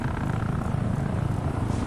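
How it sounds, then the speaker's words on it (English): A helicopter in the video game ArmA 3 drones steadily at middle distance, a continuous low rotor throb with a faint pulsing beat. "Helicopters."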